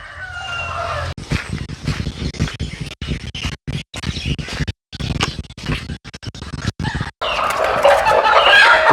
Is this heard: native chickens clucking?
yes